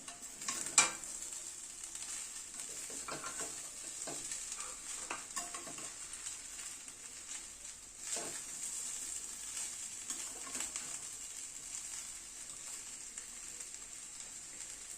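Orange zest and fried cauliflower, raisins and cashews are stirred into fried rice in a pan: steady, soft scraping and shuffling over a continuous light sizzle, close and moderately quiet, with no talking.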